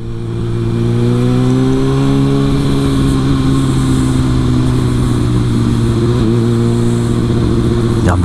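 Kawasaki Ninja ZX6R motorcycle engine pulling steadily in third gear, a loud, continuous droning note that rises gradually in pitch as the bike accelerates, with a slight wobble near the end and no voices over it.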